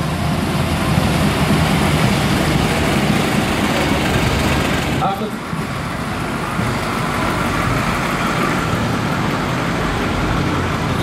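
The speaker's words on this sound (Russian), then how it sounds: "Продолжает парад штабной автомобиль нашей области." A fire service staff car rolls past in an outdoor fire service day parade, a steady engine and road hum over crowd noise, with a commentator speaking over the loudspeakers throughout.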